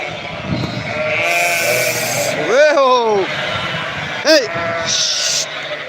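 Sheep and lambs bleat in a farm pen, several wavering calls close by, with two strong bleats standing out midway and later, under someone shouting at the animals and constant background noise.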